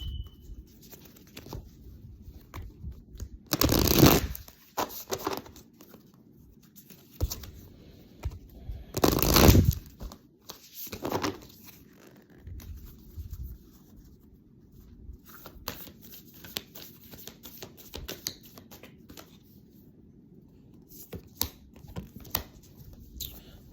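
A tarot card deck is gathered up and shuffled, giving two loud bursts of riffling, shuffling card noise with softer patters and handling in between, close and with no talking.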